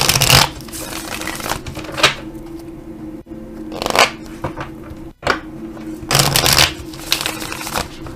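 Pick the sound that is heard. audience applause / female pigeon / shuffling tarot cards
shuffling tarot cards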